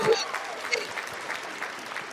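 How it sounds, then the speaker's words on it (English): Audience round of applause at a live talk show, a short burst of clapping over steady crowd noise with some speech mixed in. "All right, round of applause coming up."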